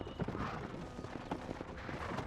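Horse hooves clip-clopping in the Western video game Red Dead Redemption, a quiet, steady run of hoof beats under low ambient noise.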